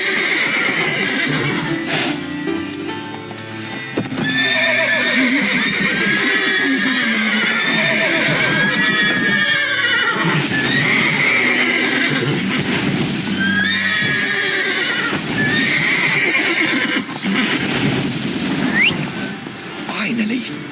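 Horses in the video game The Witcher 3 whinny and neigh repeatedly and loudly over a steady background of hooves and movement, with a voice speaking at times.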